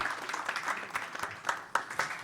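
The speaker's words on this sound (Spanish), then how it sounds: "Un fuerte aplauso para Andrés" A small audience at a journalism workshop gives scattered applause, fairly faint and uneven, with individual claps standing out now and then.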